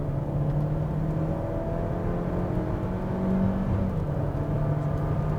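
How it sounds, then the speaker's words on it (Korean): Hyundai Kona 1.6 turbo gasoline cruising at high speed, a steady low road and engine drone with tire rumble and wind noise carried through the underbody, constant and even throughout with no talking. "이렇게 고속으로 주행을 하고 있으면 코나 직진성은 좋은데 외부 소음이 특히 하부로 전달됩니다."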